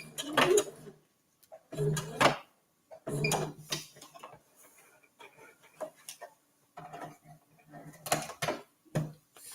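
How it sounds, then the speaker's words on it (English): A sewing machine back-stitching at the end of a seam on a reusable fabric gift bag, several short bursts of rapid ticking stitches separated by pauses, close and fairly quiet. "And back stitch at the end."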